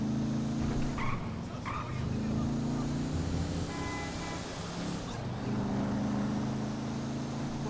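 Car being driven in GTA 5, a steady engine hum that shifts pitch as it accelerates, dipping briefly between bursts, with someone talking over it at moments.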